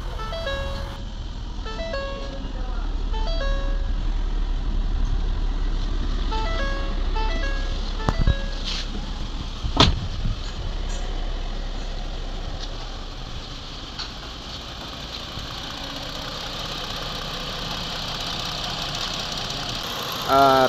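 A rebuilt Ford Explorer 3.5 V6 engine turns over in a workshop, then settles into a steady, even idle with a couple of sharp clanks partway through.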